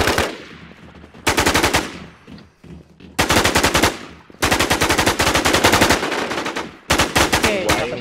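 Rapid automatic gunfire in the Infestation survival shooter, loud bursts of several seconds each separated by short pauses, with quieter game ambience between bursts.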